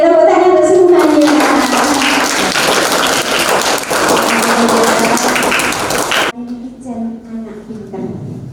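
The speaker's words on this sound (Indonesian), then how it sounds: "Oke, tepuk tangan untuk semuanya." Primary school pupils clap together at an Islamic school Quran recitation opening event, a dense, loud burst of applause lasting about six seconds before cutting to quieter sound with a voice.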